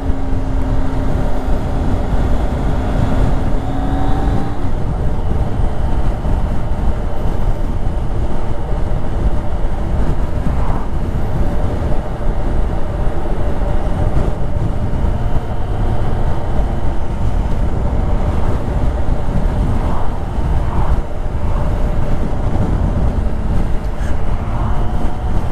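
A 2018 Kawasaki Concours 14 motorcycle cruises steadily in second gear, its engine drone and road rumble loud and continuous from onboard, mixed with wind noise and no talking.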